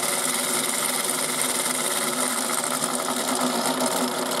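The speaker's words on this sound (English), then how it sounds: "It sounds like one's spinning as well." A 1980s Nikko toy washing machine spins at high speed, giving a loud, steady motorized whir with a buzzing mechanical edge. The sound holds continuously and close up, with no talking.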